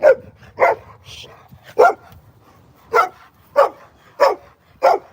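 Dogs bark in loud, close, evenly spaced single woofs, about eight in a row, with quiet pauses between them.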